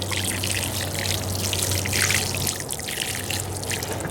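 Water is poured from close by onto strawberry plants in a stackable planter, a steady trickling splash that runs without a break and without talk.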